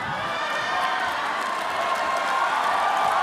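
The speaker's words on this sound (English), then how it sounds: "The crowd here, the heavy Filipino crowd in Macau, appreciating it" A heavy Filipino crowd at a Macau mixed martial arts event cheers and roars in a steady, loud wash of voices that holds throughout.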